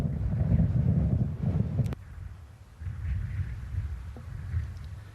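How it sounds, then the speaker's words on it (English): Wind blowing across the links golf course at St Andrews during the Open Championship: low, rumbling gusts buffeting the microphone, surging strongly at first, dropping briefly, then rising again, with no talk. "the wind from the left enhancing that"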